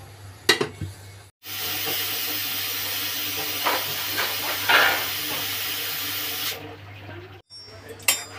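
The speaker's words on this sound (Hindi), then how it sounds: "6 सीटी लगाएंगे ताकि ये सॉफ्ट हो जाए सही से पक जाए।" A pressure cooker on a gas stove, boiling lotus stem, lets out a loud, sustained hissing steam whistle lasting about five seconds, preceded and followed by brief clattering sounds.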